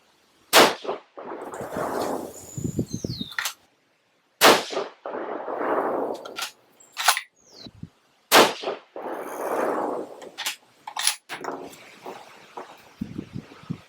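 Three 6.5 PRC rifle shots firing 140gr BTHP handloads with Reloader 23 at a range, each a sharp loud crack with a long ringing decay, spaced a few seconds apart, followed by fainter clicks of the bolt.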